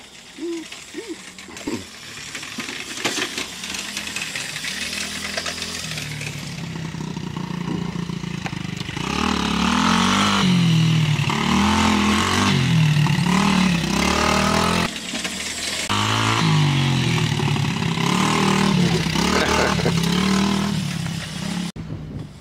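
Yamaha TTR-90 dirt bike engine cranking and revving, with a steady mechanical rattle and ratcheting sounds that rise and fall across repeated revs, loud and close.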